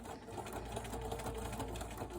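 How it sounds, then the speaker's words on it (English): A sewing machine runs steadily, stitching fabric for a remote control holder, with a continuous close mechanical whir and no pauses across the short stretch. "I'm going to have you sew the last section of this."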